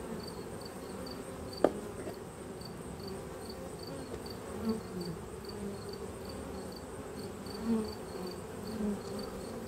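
Honey bees hum steadily around an opened hive after a honey flow, a continuous low buzz with a few individual bees passing close by and a brief tap early on.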